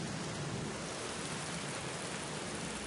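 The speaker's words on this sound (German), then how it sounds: "weil es regnet so stark" Heavy rain in the video game Black Mirror, a dense, steady hiss of downpour filling the whole stretch with no let-up and no voices.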